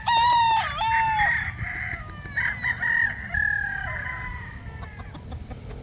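Boston Black chickens cluck and a rooster crows repeatedly, close and fairly loud, over a steady low rumble of background noise on a farm with chicks.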